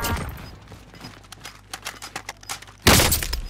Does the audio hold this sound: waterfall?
no